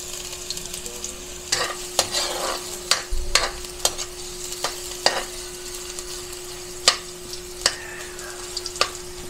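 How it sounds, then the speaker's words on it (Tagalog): Chopped onion and garlic frying in hot oil in a pan for pork binagoongan, a steady sizzle broken by repeated sharp scrapes and knocks of a spoon stirring, close and fairly loud, with no voices. "mainit na po yung ating mantika. So, lagay na po natin yung ating sibuyas. Sunod natin yung bawang."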